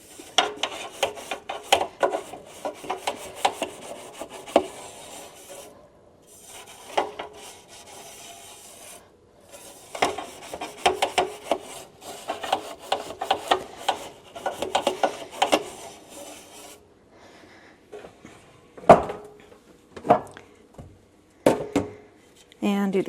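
Stiff brush bristles scrub back and forth between the shelves of a Harvest Right freeze dryer, a dense run of close, rasping strokes in bursts with brief pauses, then a few sharper isolated scrapes near the end.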